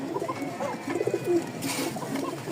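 Koka pigeons cooing in low, throaty, repeated calls that overlap one another, over a steady hiss of background noise.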